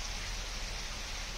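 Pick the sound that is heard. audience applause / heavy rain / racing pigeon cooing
heavy rain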